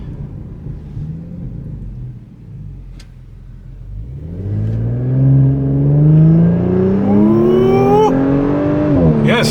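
A 2022 Audi S5 Sportback's engine climbs from a low rumble into a rising rev as it accelerates, the pitch sweeping steadily upward and growing louder, close and alone.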